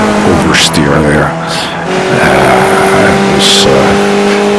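A race car in the iRacing game at Road America slides into oversteer, tires squealing over a loud, steady engine drone, while someone talks over the sound.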